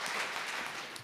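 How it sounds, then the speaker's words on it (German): A live audience at a mental arithmetic championship show claps in a brief, moderately distant burst of applause, with no talk over it. "Und dafür hat er sich auch einen Applaus verdient."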